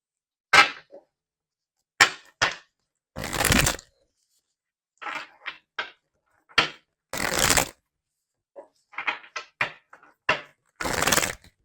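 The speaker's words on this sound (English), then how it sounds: "let's get some more cards to see more of what's going on here" Tarot cards being shuffled and drawn: brisk riffles and short flicks come in separate bursts split by silent pauses, close and clear, with no voices over them.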